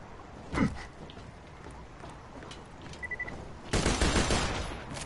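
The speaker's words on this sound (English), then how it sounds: "It's a 6-round burst sniper." A six-round burst sniper rifle in Borderlands 2 fires a quick cluster of sharp, loud shots near the start, followed by a brief electronic tone and then a dense, sustained burst of noisy gunfire toward the end.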